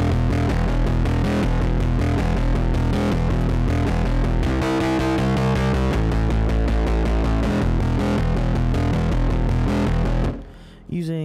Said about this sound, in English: we're just reamping a plug-in synthesizer through some actual, guitar equipment, some other outboard gear